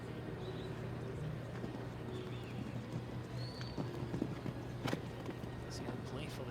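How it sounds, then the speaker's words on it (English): Show jumping horse hooves in an arena, soft rhythmic thuds of the horse moving around the course, faint and distant beneath steady crowd and commentator talk. "See how playful this horse is, bucking around the corners again."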